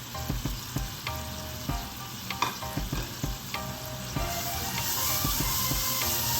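Sweet kozhukattai filling of roasted gram, sesame and cardamom powder being stirred in a pan, giving a soft sizzle with frequent sharp spoon knocks and scrapes against the metal, growing a little louder and hissier near the end.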